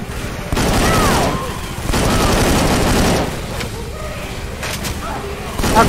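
Rapid automatic gunfire in the zombie shooter Left 4 Dead 2 comes in loud sustained bursts broken by brief pauses, with players chatting over the shooting.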